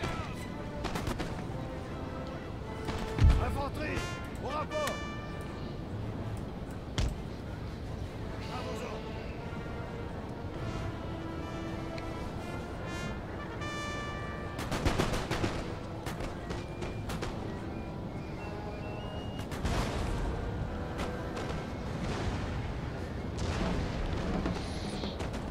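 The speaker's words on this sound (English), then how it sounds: "Switch to cannon canister." Cannon canister shot fires in a Napoleon Total War battle: sharp booms and gunfire bursts, the loudest near the start and middle, over a steady bed of battle noise and orchestral music.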